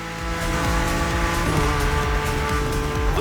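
A BMW M4 races in The Crew Motorfest, its engine revving loudly and continuously with gear shifts and brief tire squeal, close and alone with no talking.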